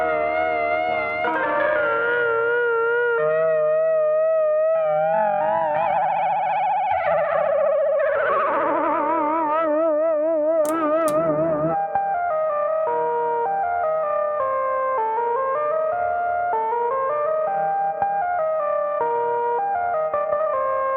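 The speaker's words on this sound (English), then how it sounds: "this Lo-Fi Junky compresses the reverb if you put it after." A keyboard melody with its own reverb plays through a ZVEX Instant Lo-Fi Junky pedal placed after it, giving wobbly, warbling, chorus-like sustained notes in a continuous lo-fi wash with no talking.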